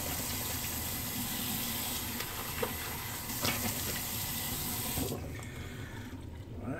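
A Magic Razor is rinsed under a running tap: a steady, close hiss of flowing water for about five seconds, then the flow shuts off and only quiet room tone remains.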